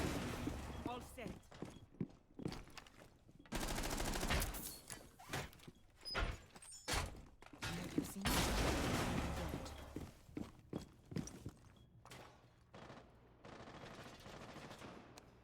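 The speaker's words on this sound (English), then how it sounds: "Hear a lot of gunfire, but I think it's just trying to work their way in." Gunfire in a competitive Rainbow Six match, with repeated sharp bursts and single shots alternating with quieter stretches and thuds, some shots close and loud, others more distant, amid occasional game noise.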